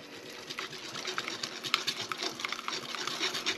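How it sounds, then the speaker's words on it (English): A whisk beats a custard mixture in a bowl, fast, close clicking and rattling that runs without a break for a few seconds. "quickly whisk that up."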